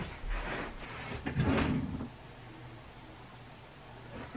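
A drawer slides open and shut with a short wooden scrape and a soft thud, quiet and close, followed by faint room noise.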